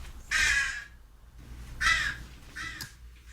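A crow caws three times close by, each call loud and harsh with short pauses between, the last one a bit shorter and quieter, set against a quiet indoor background.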